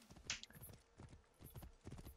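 Horse hooves clip-clop in a video game, a quiet, even walking rhythm of soft thuds repeating throughout the short stretch, faint and without talk.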